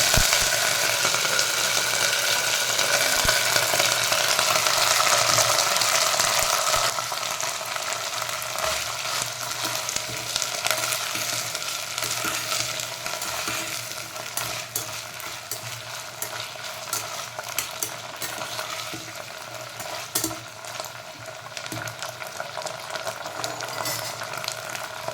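About 250–300 g of guar beans (cluster beans) frying in hot oil, a continuous dense sizzle with scraping stirs throughout, louder for the first few seconds and then slightly softer, with no voices.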